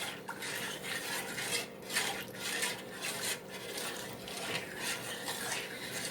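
A spoon stirs melting peppermint white hot chocolate in a pot, making repeated scraping and rubbing strokes against the metal at a steady rhythm.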